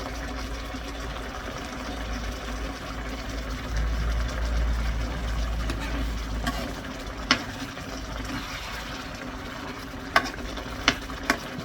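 Lemongrass and chillies cook in a pan for a canned-fish dish, giving a steady, moderate sizzle with a low rumble underneath and a few sharp clicks and taps of utensils near the end.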